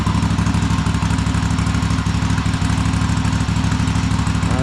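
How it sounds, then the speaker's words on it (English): A Cub Cadet Super-LT1554 lawn tractor engine, oil-covered and freshly carb-cleaned, idling with its throttle disconnected: a loud, close, steady rhythmic chugging that holds even throughout with no talk. "And we have a very nice idle."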